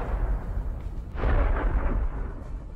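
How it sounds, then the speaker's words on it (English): Ammunition cooks off inside trucks burning after a HIMARS missile strike on a Russian supply convoy, a deep continuous rumble with a heavier boom swelling midway, loud and distant. "They contain ammunition that explodes one by one."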